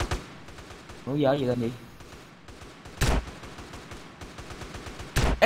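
Gunfire rings out in a GTA roleplay game, sharp bursts of shots at intervals while someone speaks Vietnamese between them.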